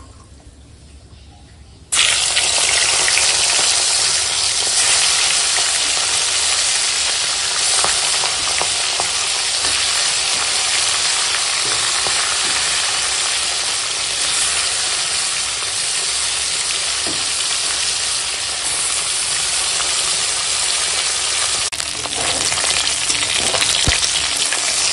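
Bhetki fish pieces frying in a generous amount of oil, a loud, continuous dense sizzle that starts abruptly after a quiet moment and crackles steadily throughout, with no talking.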